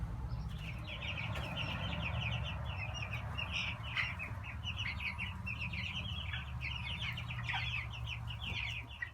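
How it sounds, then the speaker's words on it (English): Two-week-old baby chicks on a farm peeping in a constant chorus of quick, high chirps, many birds close together over a low steady background hum. "These are 2 weeks old baby chicks."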